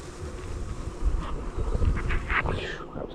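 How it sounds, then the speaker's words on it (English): Honey bees from a nucleus colony being moved into a hive buzz close by, with a few louder passes near the microphone over soft wind noise. "these are juicy little bees"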